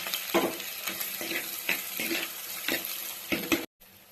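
Chopped onion sautéing in oil with mustard, fennel, cumin and green chilli, a close sizzle broken by repeated stirring scrapes at an uneven rhythm, cutting off abruptly near the end.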